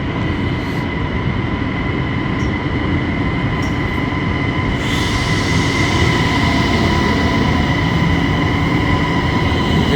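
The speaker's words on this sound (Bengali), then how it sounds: "আমার ট্রেনটা কিন্তু চলে আসছে" Loud, continuous rumble of a Chinese high-speed bullet train arriving at a platform close by, with a steady roar and a faint squeal of wheels.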